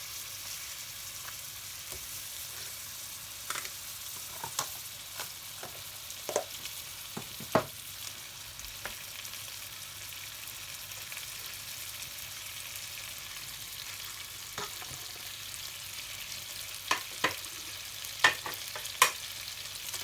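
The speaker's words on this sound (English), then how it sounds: "in the butter I put in the vermicelli, just crushing it" Crushed vermicelli fries in melted butter in a pot, a quiet steady sizzle running throughout with scattered light stirring clicks and taps, near and unaccompanied by speech.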